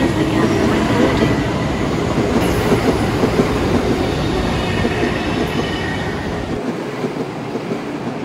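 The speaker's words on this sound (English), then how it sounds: "A 12 car train to Loch Ma Chau is arriving." A Roblox East Rail line train pulls into the platform in a video game, its rumble and clickety-clack of wheels loud and steady throughout, easing slightly at the end, with no speech over it.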